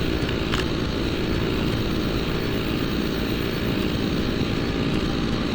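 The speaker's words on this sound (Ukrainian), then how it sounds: "це бензопила" A chainsaw runs steadily in the video game Doom 3, a continuous loud, buzzing engine drone with no breaks or speech over it.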